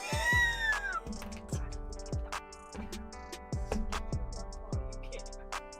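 A cat meows a few times over a busy background of music with ticking percussion and rising tones, the cries faint and close together near the start.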